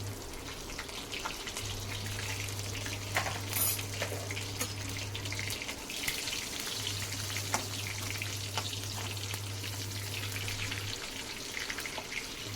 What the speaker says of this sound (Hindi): यहाँ पर मैंने जो हरी मिर्च है वो लंबी लंबी काट कर जीरे में छौंकी है